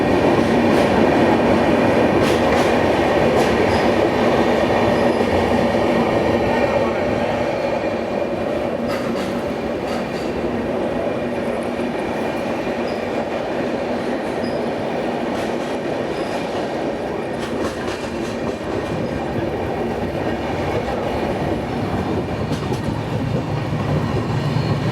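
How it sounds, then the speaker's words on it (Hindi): Gitanjali SF Express train pulling out of Chakradharpur, heard from inside the coach as a steady, loud rolling rumble with wheel clatter and faint squeal, continuous throughout with no talk. "9:07 पर हमारी ट्रेन निकली है"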